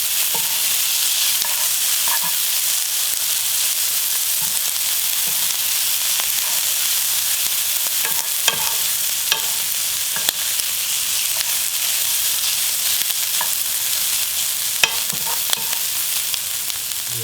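Seaweed stems stir-fried in perilla oil in a pan, a loud continuous sizzle with occasional faint scrapes and taps of the stirring utensil throughout.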